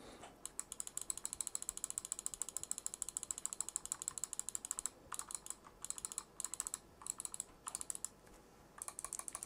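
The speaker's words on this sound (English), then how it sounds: "So we'll start off with the left click." Left button of an MSI Clutch GM31 wireless gaming mouse pressed in a fast, steady series of crisp clicks, close and quiet, with brief pauses between runs and no talk.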